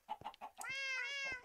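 Cats meow in a Minecraft server game, a few short soft mews followed by one long, clear, rising-and-falling meow, fairly quiet, with no talking.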